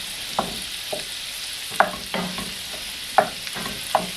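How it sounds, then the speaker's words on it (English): Sausage with garlic sizzles in a cast iron pan for stuffing, a steady fry under a few sharp clacks of stirring and scraping at irregular intervals. "so to this we'll add the sausage. And we're just going to cook this until there's no more pink in the sausage"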